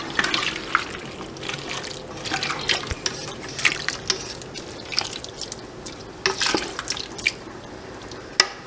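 Water saved from cooking chicken is poured into a pot of kidney beans as broth, trickling and dripping steadily with small splashes and clinks, close and fairly quiet, with no speech.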